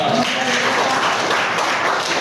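Students in an Indonesian classroom clap together after a chemistry answer about copper cable, a brief dense burst of many hands close by with some voices mixed in.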